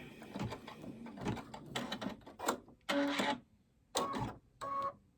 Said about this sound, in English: Now it's going to do another extra stitch going around.